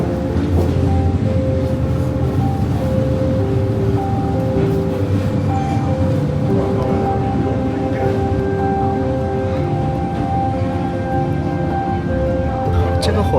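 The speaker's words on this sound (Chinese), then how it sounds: "这个火车车厢好晃呀" An overnight train carriage rumbles and rattles as it sways on its way through Vietnam, with a steady low roar throughout and a voice talking over it.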